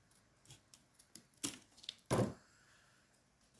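Scissors cutting paper for a small accordion album: a few faint snips and rustles, then two sharper closer cuts, sparse and quiet with no talking.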